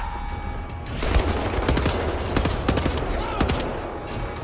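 Gunshots in Wolfenstein: The New Order ring out in a rapid, irregular volley of sharp cracks over a steady game backdrop, loud and close, with several distinct single shots toward the end.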